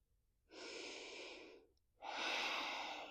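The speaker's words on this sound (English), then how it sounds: "And just keep breathing." Two slow, steady breaths during a calming yoga session, a long soft inhale-like rush followed after a brief pause by a slightly louder, fuller second breath, close and alone with no talk.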